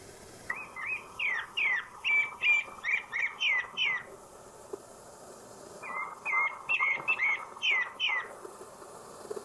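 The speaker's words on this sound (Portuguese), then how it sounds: "Agora veja o canto do sabiá-barranco." A Pale-breasted Thrush (sabiá-barranco) sings two clear runs of quick, rising whistled phrases, close and fairly loud, separated by a short pause, over a faint background of insect hum.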